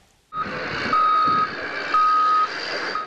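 Road construction machinery laying a new asphalt layer, with a loud, evenly spaced reversing alarm beeping over a low diesel engine rumble close by.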